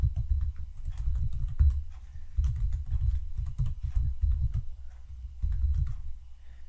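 Steady, rapid typing on a computer keyboard while entering DHCP server settings for a NETGEAR WC7600 wireless controller, a close, continuous patter of key clicks with no speech.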